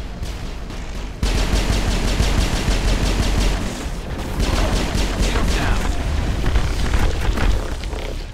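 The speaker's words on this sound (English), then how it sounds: "I have a machine gun, remember that." Sustained machine gun fire in the Mass Effect video game on the planet Ilos, a loud, dense, continuous stream of rapid shots with booming impacts, close and unbroken for several seconds.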